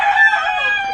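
A rooster crows once, close and loud, its call a strained, sustained cock-a-doodle-doo lasting about a second, with no other sounds around it.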